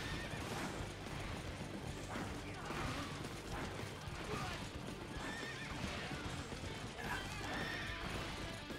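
Horse in a video game whinnying loudly with steady clip-clop hoofbeats of galloping throughout, mixed with game clatter and ambient battle noise.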